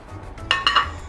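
Chole bhature being plated, with a couple of close clinks of dishes and serving utensils against each other over a quiet background, no voices.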